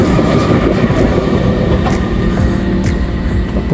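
A train rolls past close by and loud, a steady rumbling roar with clattering wheels on the rails, no voices over it.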